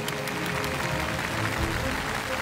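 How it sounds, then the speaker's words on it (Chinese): Studio audience applause on a Chinese TV science competition show, a steady, moderately loud patter of many hands clapping through the whole moment, with no clear voices over it. "掌声鼓励一下。"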